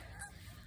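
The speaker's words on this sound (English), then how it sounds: "yeah, Lilac just ruined the geese's migration" A single brief, faint goose honk from a flock of migrating geese, heard distantly over low background noise.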